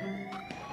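A police car siren in the video game GTA 5 gives a short electronic wail, fairly faint and brief over the game sounds.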